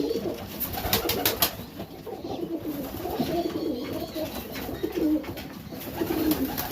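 Serbian Highflyer pigeons coo in a loft, a steady layered murmur of low throaty calls from several birds nearby, with no talking.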